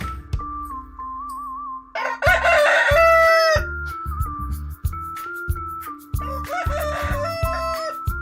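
A farmyard rooster crows loudly twice, first near the start and again toward the end, over a soft background tune and some clucking.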